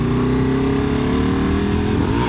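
A Ducati Multistrada V4 RS motorcycle engine drones loud and close at high revs, a steady throbbing roar with a rising pitch toward the end, no voices.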